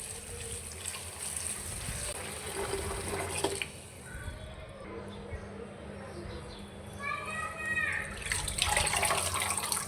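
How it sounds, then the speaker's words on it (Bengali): Leafy greens being washed under a running tap, with steady water flow and splashing throughout and a voice talking intermittently over the sound. "শাকগুলো আমি ধুয়ে নিব।"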